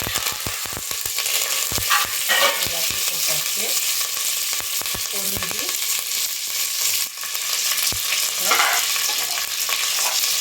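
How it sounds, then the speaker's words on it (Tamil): Cumin, fenugreek, mustard seeds and curry leaves sizzle in hot oil in a pressure cooker, a dense steady crackle and hiss with scattered sharp pops and occasional stirring scrapes, close and continuous throughout. "இப்போ எண்ணெய் காஞ்சிடுச்சு சீரகம் வெந்தயம் கடுகு கருவேப்பிலை"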